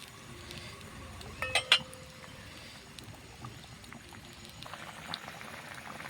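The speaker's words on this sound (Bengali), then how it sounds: "মাছগুলো সব দিয়ে দিলাম, ভালো হয়ে ফোটার পর নামিয়ে ফেলব।" Fish curry with a thin broth bubbles in a pot, giving a soft, continuous simmering wash. A few faint clinks rise briefly above the boil near the middle.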